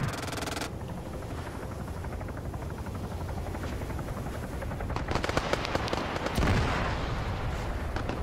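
Game combat in a police operation scenario: a sustained din of helicopter rotor and rattling gunfire, with a burst of louder blasts and crackling impacts near the end, dense and continuous with no talk.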